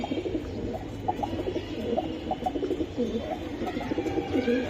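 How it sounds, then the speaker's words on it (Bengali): Giribaj tournament pigeons coo close by in a continuous, overlapping chorus of low throaty burbles and rolling calls, several birds at once with no talk. "টুর্নামেন্ট খেলা কবুতর"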